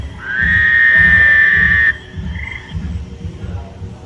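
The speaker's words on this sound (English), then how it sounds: "And the Fowler toad. Fowler's toad." Fowler's toad giving a loud, steady nasal trill lasting about one and a half seconds, followed by a shorter, fainter call, over a low rhythmic background pulse in a museum exhibit of loud amphibians.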